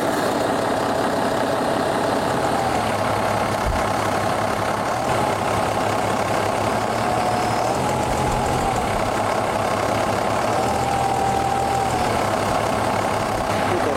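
An engine driving an alternator runs steadily in a loud, continuous drone, its pitch rising and falling as it speeds up and slows down in turns.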